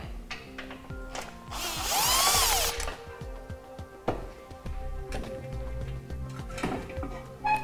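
A power tool whines up in one short, loud burst as it backs out the last bolt while a Blue Ox base plate kit is being fitted, followed by metallic clinks and handling noise nearby.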